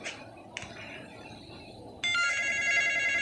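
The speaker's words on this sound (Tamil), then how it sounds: "ஃபோன் அடிக்குது." A telephone rings in a horror video game, a faint ring near the start followed by a louder, sustained electronic ringing tone after two seconds, with no talk over it.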